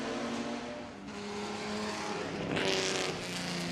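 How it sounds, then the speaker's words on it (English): A big front-engine V12 Jaguar race car at the Goodwood Festival of Speed hillclimb roars past near a wall, a loud sustained engine note that swells as it draws close, with no talking. "Chris threads the big front-engine V12 Jaguar up towards the wall."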